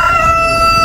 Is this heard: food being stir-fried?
no